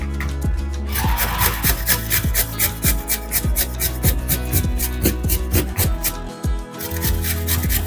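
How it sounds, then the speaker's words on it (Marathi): Two medium unpeeled potatoes are rubbed on a hand grater in a kitchen, making loud, close, rhythmic scraping strokes roughly twice per second, with no talking. "ते किसणीवरती किसून घेऊया"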